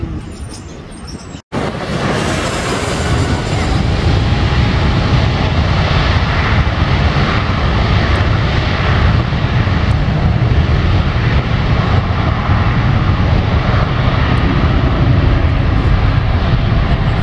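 Air China airliner landing at Los Angeles International Airport, its jet roar loud and steady after a brief cut, a broad sustained rumble with no talk.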